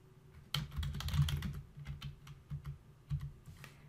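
Typing on a computer keyboard at a command prompt, a quick close run of soft key clicks with a few louder taps, quiet overall.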